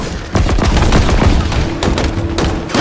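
Gunfire rattles through a Halo Infinite match in loud, rapid bursts, with sharp overlapping shots and booms packed closely across the whole stretch.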